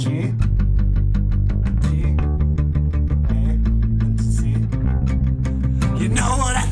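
A band plays a fast punk-style version of a song, live in a radio station setting, with driving drums, distorted guitars and a dense, loud, steady rhythm throughout.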